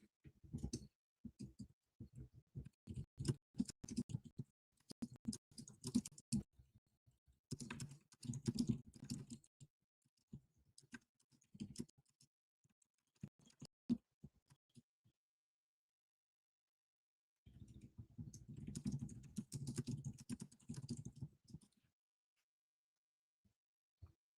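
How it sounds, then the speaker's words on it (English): Bursts of typing on a computer keyboard, with quick clicking keystrokes in several separate runs and pauses of silence between them, close and fairly quiet. "I'm gonna type in the chat as well."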